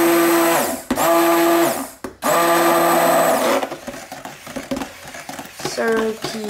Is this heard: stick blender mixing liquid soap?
yes